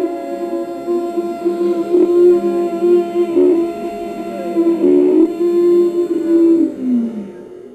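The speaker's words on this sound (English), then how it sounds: "when you would be tightening your throat while taking in your breath, there will be a kind of sound like this" Ujjayi Pranayam breathing, air drawn in through a tightened throat, gives a steady, close, hoarse whispery drone. It swells and eases in slow waves across several breaths, with no talking.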